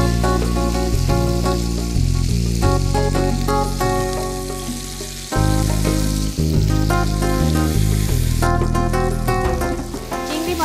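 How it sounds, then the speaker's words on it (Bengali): Prawns frying in hot oil in a pan for a butterfly prawn recipe, giving a steady loud sizzle throughout over a bed of music. "আমরা একটু তেল দিয়ে দিচ্ছি। তো আমরা এখন চিংড়িগুলো দিয়ে দিব।"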